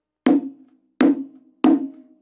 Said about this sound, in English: So the muted tone, you could just call it the muted tone. Sounds like this.